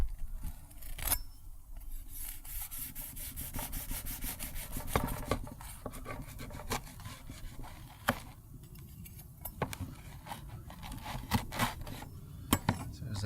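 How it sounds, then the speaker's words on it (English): A knife saws through a crusty loaf of Dutch oven bread baked outdoors in the woods, giving repeated close, rough back-and-forth scraping strokes with crackling crust snaps, steady throughout. "I'm going to just smush this thing all up trying to cut a slice."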